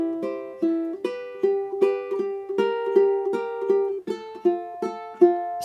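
Ukulele picked in a pinch-and-pick pattern over a chord progression, alternating plucked double notes and single notes in a steady, bright rhythm, close and clear with no voices.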